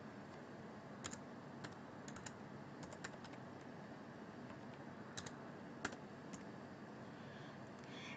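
A username and password being typed on a computer keyboard, sparse faint key clicks spread irregularly over a low steady background hum.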